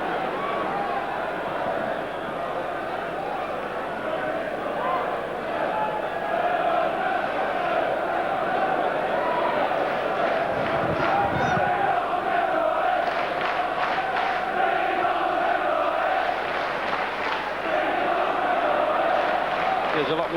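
Football crowd at a 1993 Crystal Palace v Arsenal League Cup semi-final, a steady roar of thousands of fans with swelling chants and noise, continuous and loud, with commentary voices faintly under it.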